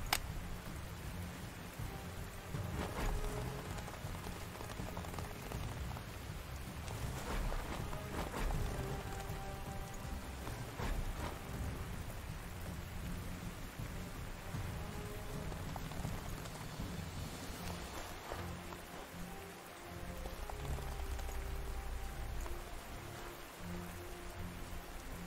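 Steady rain falls across a Panzer Corps 2 battlefield, a continuous soft patter with a low rumbling bed that holds evenly throughout, no talk over it.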